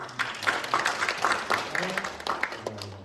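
A congregation claps in a church during a Sunday service, a scattered round of applause with some voices talking over it throughout.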